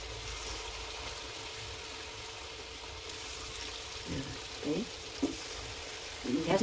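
Small drops of wheat-flour gulgule batter fry in hot oil over a low flame, making a faint, steady hiss that swells into a few short bubbling bursts near the end.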